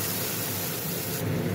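Ground cumin, ginger, chilli and mustard pastes sizzling in hot oil with nigella seeds, a steady loud close hiss that swells slightly toward the end, with no talking.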